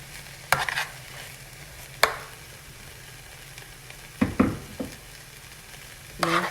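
Chickpeas, some smashed and some whole, are stirred in a pan over a soft background sizzle, with several sharp scrapes and clanks of the utensil against the pan.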